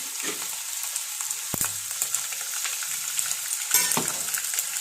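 Mustard seeds dropped into hot oil crackle and sputter in a steady, close sizzle, with a couple of sharper pops and a soft clatter standing out.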